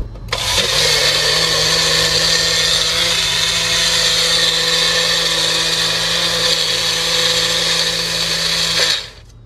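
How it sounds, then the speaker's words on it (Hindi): A 200-watt electric mixer grinder runs off a car through an inverter. It gives a loud, steady, close whine for about eight seconds after a quick start-up, then winds down abruptly. "हमने कार में मिक्सी चलाई"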